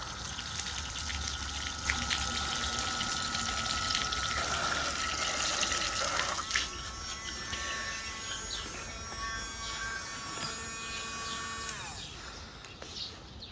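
A Thetford toilet flush pump runs submerged in water, giving a steady electric whir mixed with gushing, trickling water that continues throughout at moderate level, with a change in tone partway through.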